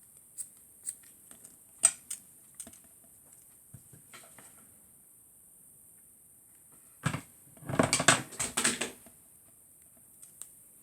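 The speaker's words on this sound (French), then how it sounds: "ici, je vais venir couper l'excédent." Scissors snip through excess scrapbooking paper in scattered single cuts, then a quick close burst of several snips near the end, with quiet gaps between.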